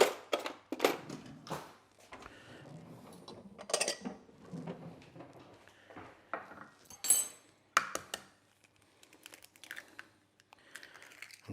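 A fork briskly whisks an egg wash in a small dish for an apple pie, rapid clicking and tapping in short bursts with pauses, close and fairly quiet.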